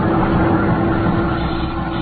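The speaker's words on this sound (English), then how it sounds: "I could hear the sound of the engines" Boat diesel engines running as a radio drama sound effect, a loud steady droning rumble with a constant hum, unbroken throughout with no voices.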